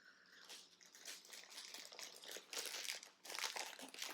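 A plastic mailer bag holding a T-shirt is torn open by hand without scissors. Close, faint crinkling and crunching comes in irregular bursts, with several louder rips toward the end.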